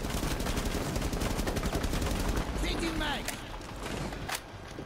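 Rapid bursts of automatic gunfire in the tactical shooter Rainbow Six Siege, loud and dense through most of the stretch, with brief mechanical clatter and a voice talking over it near the end.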